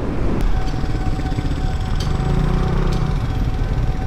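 A Yamaha Sniper 155 motorcycle rides at low RPM, its engine putting out a steady, loud, rough drone with a faint whine and a few brief clicks.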